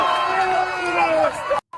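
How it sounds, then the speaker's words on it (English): A crowd cheers on a swimmer out on the water, a loud wash of voices and whoops holding steady before breaking off abruptly near the end. "Everybody's really cheering him on"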